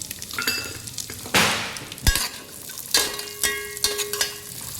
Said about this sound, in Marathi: मनुका नाही घ्यायची चारोली पण आपण भाजूया थोडी